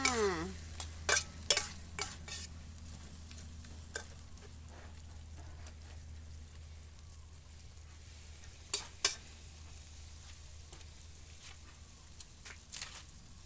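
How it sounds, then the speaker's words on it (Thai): Pork stir-fries in a pan over a low hum, with sharp clatters of tossing and scraping at the start and again midway, under a light steady sizzle. "ตอนนี้ก็ คลุกคลิกคลุกคลิก รอหมูสุก"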